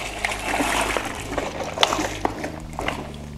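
Homemade hard cider drips and splashes onto a garage floor, a series of close, irregular wet splats and small trickles, each drop landing sharply and separately.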